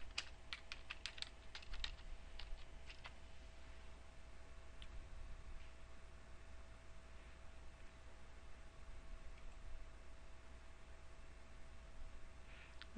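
Typing on a computer keyboard while searching for a 20th century writer's name: a quick burst of faint clicks at the start, then scattered key taps fading into a low steady hum.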